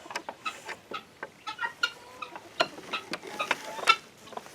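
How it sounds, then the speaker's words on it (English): Backyard garden chickens cluck and chatter in short irregular bursts, close by and moderately loud, with scattered ticking and scratchy sounds between calls and no talking. "Oh, these chickens, they want to come out in the garden"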